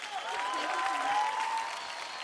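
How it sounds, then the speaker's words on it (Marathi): A studio audience at a televised dance competition applauds a performer, a brief dense burst of clapping that swells and then tapers, close and fairly loud, with a faint tonal sound running under it. "पुन्हा एकदा जोरदार टाळ्या होऊन जाऊ द्या मृण्मयीसाठी"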